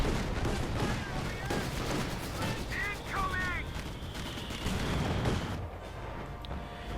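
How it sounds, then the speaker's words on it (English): A Stuka rocket barrage in the Company of Heroes 2 strategy game: a dense run of booming blasts and crackling fire with shrieking, rising whistles from incoming rockets, loud and continuous, under a commentator's voice. "We've got the Stukas who's unleashing a barrage of doom rockets shrieking through the skies"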